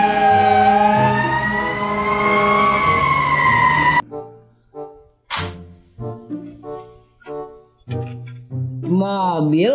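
Toy fire truck: a loud electronic siren wailing up and down in steady sweeps for about four seconds, then stopping, followed by a series of short bursts, likely a voice, and a final rising tone.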